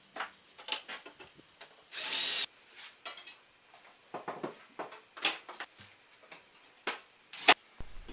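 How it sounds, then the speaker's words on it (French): A power drill drives screws into a small horizontal metal rail for a plasterboard TV display unit, with a sustained whirring burst amid scattered clicks and handling knocks, fairly faint and close. "Je viens visser un petit morceau de rail horizontal"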